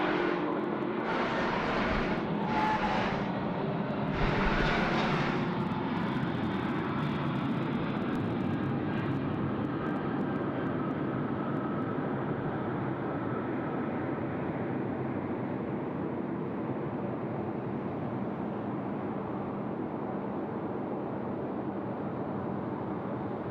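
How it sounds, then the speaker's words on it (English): A passenger airliner lands on runway 34 left at Sydney Airport, a loud sustained roar of engine and rushing noise that slowly eases and stays steady for over twenty seconds, with no voices. "Runway 34 left, clear to land."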